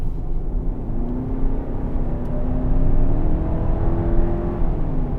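A 2024 Hyundai Santa Fe accelerates at about 60% throttle, its engine a steady, smooth rising drone with road and wind noise, no talk over it.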